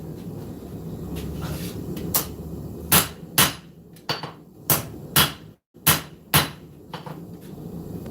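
Hammer striking hot metal on an anvil to dent and flatten it for length, about eight sharp ringing blows at uneven intervals, loud and close, over a low shop background.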